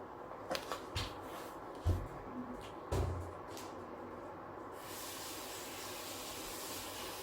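Water runs steadily from a tap over a de-chromed plastic model kit part, a continuous hiss that follows several light knocks and clunks as the piece is handled nearby.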